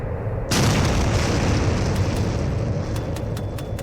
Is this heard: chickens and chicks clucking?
no